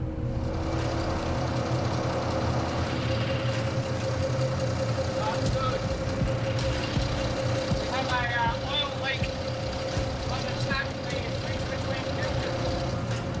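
A boat's diesel engine idles after an oil change, a steady low rumble with a constant drone, while other sounds flutter faintly over it and people talk nearby.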